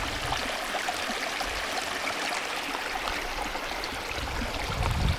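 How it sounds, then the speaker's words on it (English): A creek runs steadily along a hiking trail, its continuous rushing, bubbling wash heard close and fairly loud with no one speaking. "Running water."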